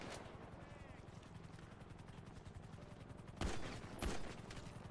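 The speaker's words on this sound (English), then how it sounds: "Wait, no, I'm getting shot, stop." Gunfire during a GTA V NoPixel roleplay session, with a rapid steady rattle running under the game ambience and two louder, sharper cracks near the end.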